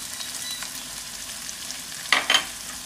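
Garlic cloves go into hot oil, raising a soft, even sizzle that ends in two brief louder bursts of crackle near the end.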